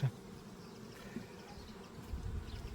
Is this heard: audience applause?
no